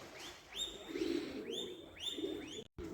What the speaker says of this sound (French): Nos amis les pigeons.